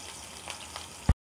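Sliced onions sizzling in a small amount of hot oil in a pan, a steady close hiss with faint crackles that ends on a brief thump, no talking.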